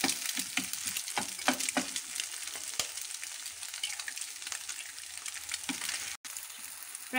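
Eggs dropped one at a time into a pan for egg fried rice sizzle and crackle steadily, with soft clicks and stirring scrapes over a continuous close frying hiss and no talking.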